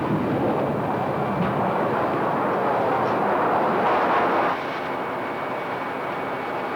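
A 1960s jet airliner climbing out after takeoff from Denver airport, a steady loud broadband engine roar and rushing wind that holds strong, then eases slightly near the end.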